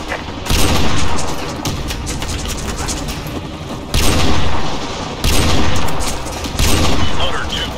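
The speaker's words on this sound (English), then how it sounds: "We're holding our own, but have blast enemies to the west and are taking fire from that direction." Heavy gunfire in a Call of Duty Modern Warfare 2 Remastered campaign battle, with loud sustained bursts and booming impacts filling the scene, swelling in several waves with no pauses.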